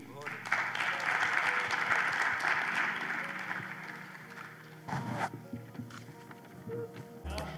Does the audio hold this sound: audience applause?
yes